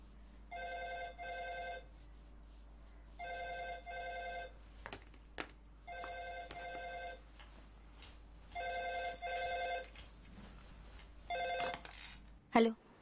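A telephone rings in repeated two-second bursts with short pauses between, clear and steady in a quiet indoor scene, followed by a few clicks and a brief thump near the end.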